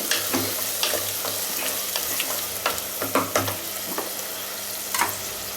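Quail gravy stirred in a pan just after water goes in, a bubbling sizzle with scattered spoon scrapes and knocks, close and steady, no speech.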